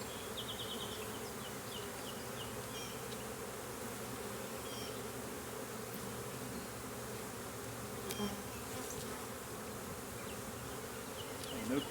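A dense, continuous buzz of many honey bees at an open hive box close by, steady and droning throughout with no pauses.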